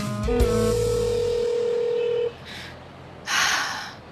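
A telephone being dialed for a call: a few short keypad tones, then a long steady tone, followed by two bursts of hissing noise, with no talk.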